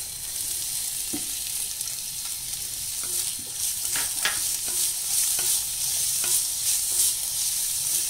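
Onions sautéing in a spoonful of oil make a steady hiss and crackle, with scattered taps and scrapes of a spoon stirring the pan, close and moderately quiet.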